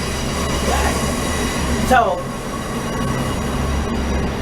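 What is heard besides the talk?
passing train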